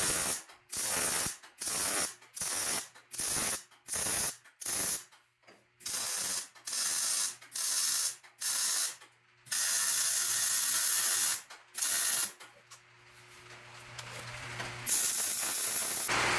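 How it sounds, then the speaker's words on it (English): Rosette welding a small gusset onto a steel go-kart rock crawler frame: a series of short, loud crackling weld bursts in a regular stop-start rhythm, then longer continuous hissing runs close by, with no talking. "I'm going to use that rosette weld and weld to this little gusset"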